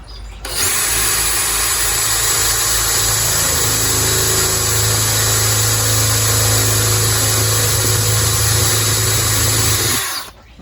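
A power drill whirs steadily while boring holes in a plant pot, one loud unbroken run of motor noise lasting about ten seconds before stopping, close and without talk.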